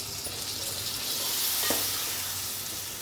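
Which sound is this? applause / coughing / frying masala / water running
frying masala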